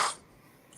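A single sharp sneeze bursts out close by, then quiet, followed by a faint breathy sound at the end.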